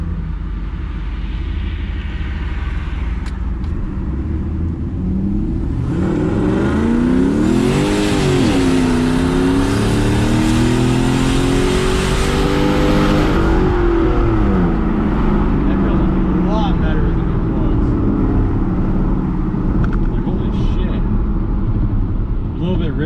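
Pontiac Trans Am with automatic transmission and stock converter accelerating on 5-6 pounds of boost, a loud, steady engine roar rising in pitch through a long pull, close up and continuous from start to finish.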